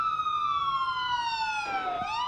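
A police siren in a police video game wails loud and close, its tone sliding slowly downward before swinging back up, with no talk over it.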